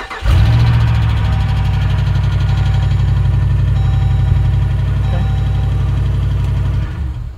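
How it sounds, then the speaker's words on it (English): Dodge Durango engine cranking briefly and catching, then settling into a loud, steady close-up idle with a faint possible lifter tick, before cutting off at the end. "Let's fire it up. Let's see if this thing will start."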